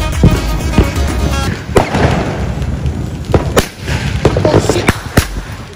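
Fireworks from a big $4,000 box go off in a rapid string of sharp bangs and crackles, loud and close, with people talking excitedly over the blasts.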